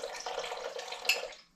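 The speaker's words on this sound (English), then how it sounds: "also pour some of the juice in" Juice from a jar of pickled jalapenos pours into homemade Mexican restaurant-style salsa, a brief close splashing trickle that tapers off.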